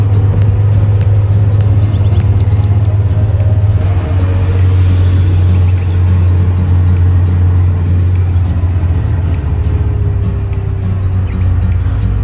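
An older vintage bus climbs narrow, steep slopes on the road up to a monastery in Georgia's Kakheti region, its engine a loud, steady low rumble that holds throughout with no talk over it.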